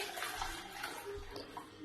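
One cup of water poured into a container for a gummy bear osmosis experiment, a steady splashing trickle lasting about two seconds at close range with no voices.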